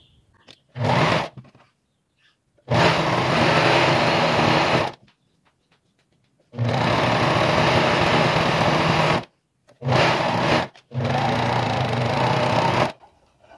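A domestic sewing machine runs in several bursts while stitching the side seam of an apron, a steady loud mechanical whir with short gaps between runs.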